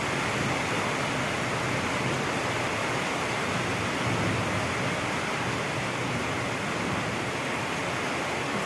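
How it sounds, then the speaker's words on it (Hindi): Heavy rain pours down outside an Indian home, a dense, loud, unbroken hiss that holds steady from start to finish with no voices over it. "तो बहुत तेज बारिश हो रही है"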